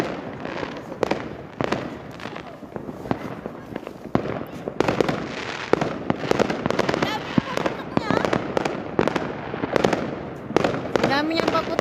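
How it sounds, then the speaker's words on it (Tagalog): New Year's fireworks and firecrackers going off in rapid, irregular bursts of sharp cracks and pops, some close and loud, with people talking over the barrage throughout. "Ang dami niyang paputok."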